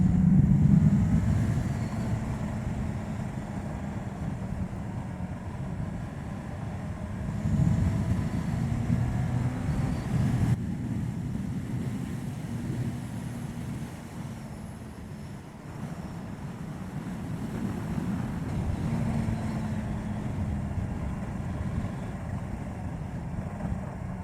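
A 2018 Kawasaki H2 SX SE motorcycle cruising at speed, with a steady engine drone mixed into heavy wind rush on the microphone. The level swells slightly now and then, and no one speaks.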